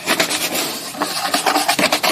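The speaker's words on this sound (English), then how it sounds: "Start scrubbing." A scrub brush works Dawn soap over a car door panel on a Jeep in rapid back-and-forth rasping strokes, close and fairly loud, with brief pauses between bursts and no talking.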